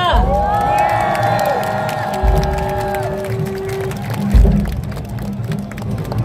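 A crowd cheers, whoops and applauds loudly at an outdoor political election rally at Seoul City Hall, with an announcer's amplified voice and a swell of shouting near the end.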